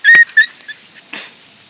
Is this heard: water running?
no